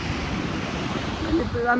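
Sea waves wash along the shore at Virac, Catanduanes, a steady wind-blown surf rush close to the microphone, with a few faint tonal sounds near the end.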